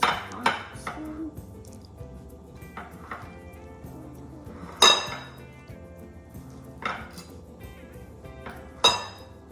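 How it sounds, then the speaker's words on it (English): A spoon pressing Rice Krispie treats flat in a dish, with sharp clinks and scrapes against the dish at irregular intervals, fairly close and otherwise quiet. "you'll use your spoon to flatten it down"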